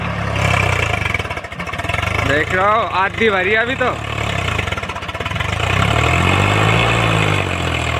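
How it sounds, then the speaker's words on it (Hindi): A tractor pulling a trolley loaded with sugarcane runs with a loud, steady engine drone close by, while someone talks over it in the middle. "ट्रैक्टर हो गया स्टार्ट।"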